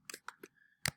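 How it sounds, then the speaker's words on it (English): Typing on a computer keyboard: a handful of quiet, separate key clicks in an uneven rhythm, close by in an otherwise quiet room. "I'm just typing out my present value calculation"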